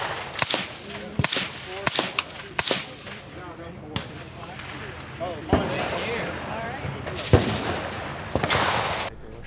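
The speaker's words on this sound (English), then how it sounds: "so I shot the Glock 43X here" A Glock 43X handgun fires at a crowded range event, sharp close shots in uneven bursts with several spaced single reports, under steady background chatter from people nearby.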